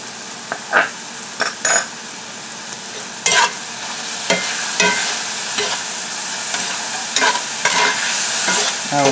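Garlic sizzles in a hot pan while a utensil stirs it, with scraping bursts at irregular intervals over a steady frying hiss, close and fairly loud.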